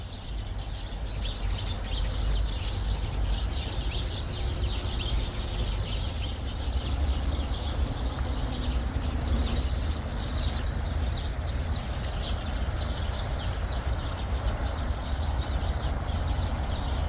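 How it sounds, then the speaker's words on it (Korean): A noisy flock of birds chirps steadily against a continuous outdoor hiss with a low rumble underneath, the calls blending into a dense wash with no voices. "엄청 시끄럽다, 새들이"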